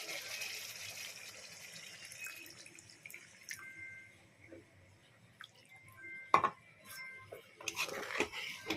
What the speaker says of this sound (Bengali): এই যে ঝোলটা প্রায় ফুটে আসছে, এবার জল দিয়ে দিলাম।